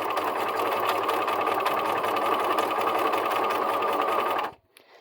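A sewing machine zigzag stitches over embroidery thread for a festive fabric garland, running as a steady, loud, continuous motor hum with a rapid needle rhythm for over four seconds before stopping abruptly.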